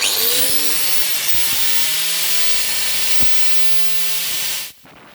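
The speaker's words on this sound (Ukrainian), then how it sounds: "Беру болгарку." A loud, steady high-pitched grinding hiss of an angle grinder cutting through welding electrodes, running continuously before cutting off abruptly near the end.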